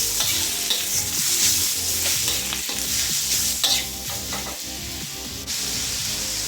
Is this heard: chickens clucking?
no